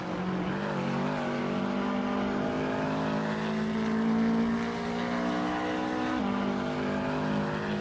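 Race cars circling Sebring International Raceway in a racing video game, a continuous loud engine drone with steady harmonic whine that shifts pitch slightly as gears change, several cars blending together with no talk.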